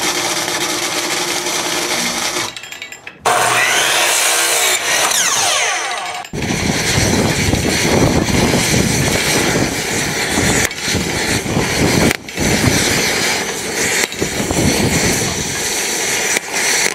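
A gas-powered Case 446 tractor engine starts cold and runs, a loud, rough, steady mechanical roar with brief stumbles and dropouts before settling into a continuous harsh idle.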